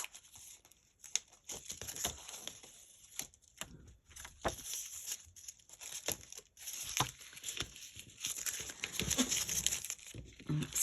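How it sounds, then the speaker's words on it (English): Tape is peeled slowly off a paper stencil, producing a run of faint, crackly tearing and crinkling sounds with small paper rustles, close but quiet, with no talking. "Removing this tape and this one here."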